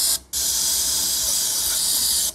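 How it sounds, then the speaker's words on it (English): Carb and choke cleaner sprays from an aerosol can into an old racecar engine, a loud, steady hiss that runs almost without pause after one brief break near the start. "A little carb and choke cleaner."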